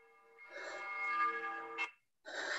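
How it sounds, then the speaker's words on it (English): A bell tolls a death knell, one sustained ringing strike with rich overtones that swells and fades, then a short break and the start of another. "The bell invites me."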